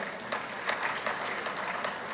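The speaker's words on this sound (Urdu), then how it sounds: "فوکر صاحب ہمارے ایکسپورٹر ہیں تو انہوں نے تالیاں بجائی سب سے پہلے" Audience applause at a speech about Pakistan's exports and government mismanagement, a brief burst of scattered clapping at moderate level, fairly close and without voices over it.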